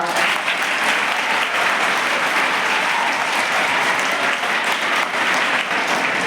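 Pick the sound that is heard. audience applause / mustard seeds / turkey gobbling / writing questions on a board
audience applause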